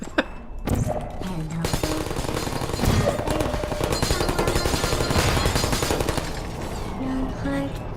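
Rapid gunfire in the Factum Solus video game, sustained bursts of loud shots and thuds running through most of the stretch with little pause.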